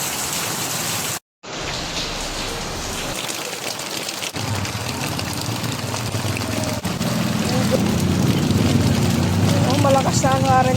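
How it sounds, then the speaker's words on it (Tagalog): Heavy rain pours without pause during a flood, a dense, loud hiss that builds over time, with voices talking beneath it. "Tuloy-tuloy pa rin ang ulan guys."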